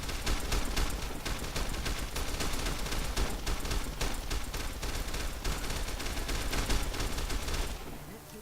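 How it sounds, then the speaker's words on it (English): Sustained gunfire in the Fallout: New Vegas video game, a dense volley of shots and rapid automatic bursts running loud and nearly continuous for several seconds before cutting off. "What the hell are they shooting at now?"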